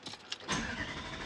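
A Toyota 79 Series with an 8-speed transmission conversion cranks and fires, a short starter whirr followed by the engine catching and settling into a loud, steady idle close to the microphone.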